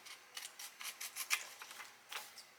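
Sublimation vinyl being cut by hand with scissors, a quick series of faint, close snipping and rasping strokes in an uneven rhythm.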